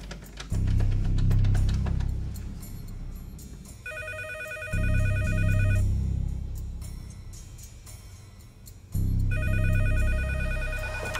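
A home landline telephone rings in two warbling bursts, each around two seconds long, set against loud, dense background music and noise, with no speech.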